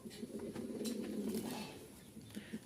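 Pigeons cooing in a cage, Giribaz fancy breeds for sale, a steady low murmuring coo with soft rhythmic pulses running throughout, fairly close.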